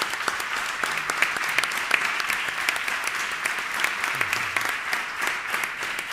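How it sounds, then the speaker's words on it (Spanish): A strong round of audience applause for the speakers at an ESG real estate event: many hands clapping densely and steadily for several seconds, close and loud, with a faint murmur of voices beneath. "Lo que sí que voy a pedir es un fuerte aplauso a nuestros ponentes"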